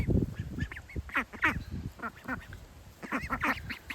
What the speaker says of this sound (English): I had to come out and show you the ducks because they're just so cute.